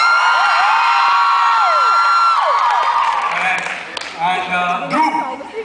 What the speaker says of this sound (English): I think Adarsh probably had the most amount of applause